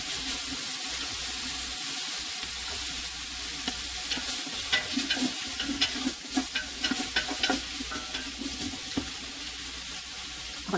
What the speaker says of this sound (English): look at how I chopped up all that andouille sausage. About 4 pounds of it. And we're going to brown it.